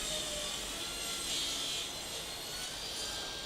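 A saw rips a wood board roughly to width for an old-style box, giving a steady, loud broadband cutting roar that holds throughout with a slight swell midway and no talking.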